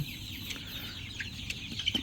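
Chickens clucking and chirping in a steady background murmur on a poultry farm, with soft bird calls and occasional flutters, no voices.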